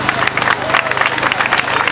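A crowd claps loudly for a child candidate at a casting for the Cucafera princess and knight during the Santa Tecla festival in Tarragona, the brisk, dense applause mixed with chatter and voices.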